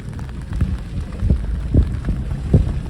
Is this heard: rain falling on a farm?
yes